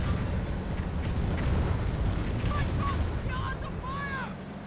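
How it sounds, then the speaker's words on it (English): Sector artillery explosions in Company of Heroes 1 as a continuous rumbling barrage of distant booms and crackling battlefield noise, with faint whistling and mechanical sounds toward the end. "the sector artillery's in this sector"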